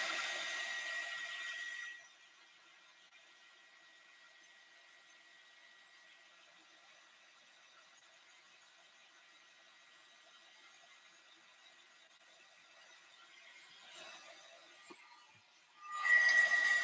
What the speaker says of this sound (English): So I'm just going to get my heat gun just to let that dry.